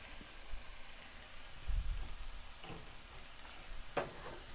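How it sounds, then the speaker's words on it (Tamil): Tomatoes and chili powder sizzle softly in a pan for kurma, with occasional scraping stirs and a sharper clatter near the end, no voices. "அந்த மிளகாப்பொடியும் ஒரே ஒரு வதக்கு."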